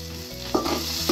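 Tomatoes frying in a pan for a corn and spinach curry, giving a steady close sizzle with a few stirring scrapes and clinks partway through, no talking.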